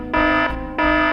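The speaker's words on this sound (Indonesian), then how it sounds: "Itu kan bunyi alarm CCTV." A CCTV alarm sounds in the video game Sakura School Simulator, two loud, sustained buzzing alarm tones repeating back to back with a brief gap between them.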